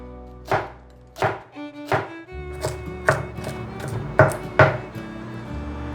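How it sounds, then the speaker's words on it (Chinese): A knife shreds washed cabbage into fine strips on a cutting board, about eight crisp chopping strokes in an uneven rhythm, close and clear with no talking. "现在来切成丝"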